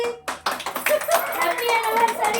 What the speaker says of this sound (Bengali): এই হাতে তালি